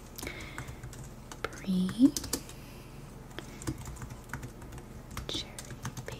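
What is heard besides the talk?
typing on a computer keyboard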